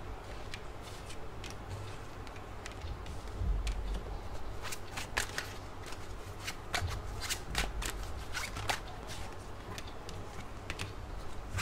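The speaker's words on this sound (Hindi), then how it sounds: "पहले मैं आपके कार्ड्स निकाल लेती हूँ" Tarot cards are shuffled and drawn by hand in a quiet room, a soft continuous riffling and flicking with crisp snaps scattered throughout, close and fairly faint with no speech.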